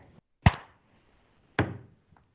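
Two sharp knocks about a second apart, each a hard percussive hit with a short woody ring, in an otherwise quiet room.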